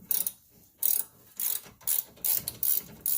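A wrench ratchets on a bolt at the front wheel of an Acura TSX during wheel bearing work, heard as close, repeated bursts of clicking in uneven strokes with short pauses between them.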